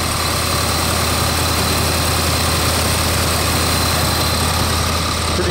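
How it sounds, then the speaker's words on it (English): A 1964 Ford Galaxie XL500 with a 390 V8 idles steadily, a loud, continuous low rumble with constant vibration and no pauses. "The 390 engine, it's running, you should be able to hear it."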